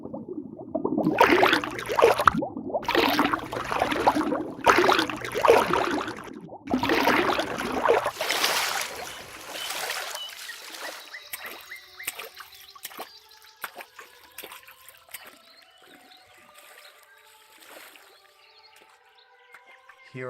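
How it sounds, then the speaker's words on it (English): Underwater swimming in a forest lake, rendered in 3D audio: several loud splashing strokes for the first ten seconds, then quieter submerged bubbling and dripping trickles fading out. "We'll get in and swim under the water until we reach the other side."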